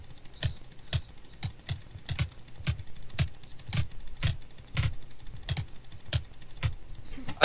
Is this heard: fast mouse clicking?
yes